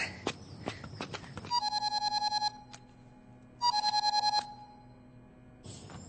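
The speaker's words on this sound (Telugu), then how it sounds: "బ్రదర్ ఫోన్ అందుకో." A mobile phone ringtone rings in a movie scene: two bursts of rapid, bright repeating tones separated by a short pause, clear and fairly close against a quiet background.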